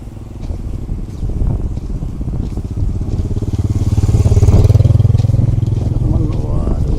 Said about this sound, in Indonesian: Oh, sekarang ada motor.